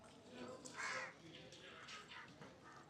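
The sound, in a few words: crows cawing on a rooftop in Pondicherry, India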